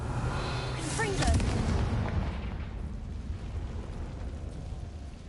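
A Confringo blasting spell goes off in the Hogwarts Legacy video game, a booming burst with a whooshing edge that fades into a lingering rumble, while a voice is heard near the blast.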